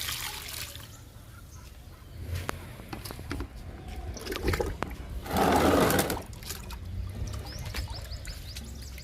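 Liquid feed poured onto garden plants in summer: a short, loud splashing pour in the middle, set against quiet outdoor background noise.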